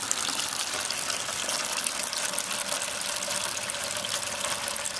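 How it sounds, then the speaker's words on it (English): Chilled porter wort streams into a home-brew fermenter in a constant splashing gush, close and even in loudness throughout without pause. "And there it goes into the fermenter."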